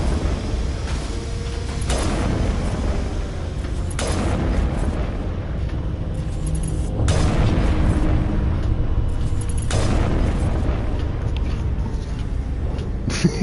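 Heavy sniper rifle shots in the video game Mass Effect, a series of deep booming blasts spaced a few seconds apart over a dense, constant roar of battle noise.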